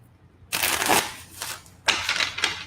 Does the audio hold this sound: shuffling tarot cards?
yes